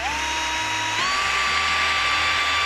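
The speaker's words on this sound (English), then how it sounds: "I'm going to start off by drilling a small pilot hole, or a series of small pilot holes rather" A handheld power drill bores a small pilot hole into loft boarding wood, a loud, steady high whine running close and continuously, with a slight pitch step partway through.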